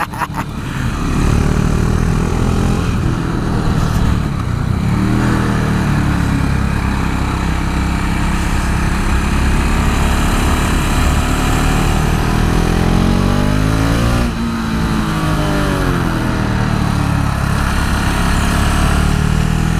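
A KTM Duke 690 R single-cylinder motorcycle engine under way, loud and close, its throbbing drone holding steady with several rising and falling pitch sweeps as the throttle shifts.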